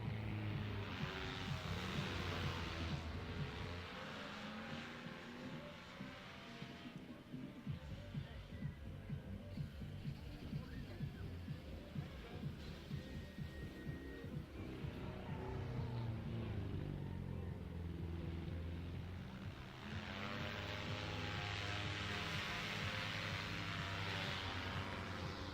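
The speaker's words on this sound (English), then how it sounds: "We got this silver Mustang out here. I don't know if it's Ben Wise driving or his boy, but they're taking it pretty easy in the old girl." A silver Ford Mustang circles a drift pit at easy pace, its engine giving a steady, continuous roar that rises and falls in loudness over the whole stretch.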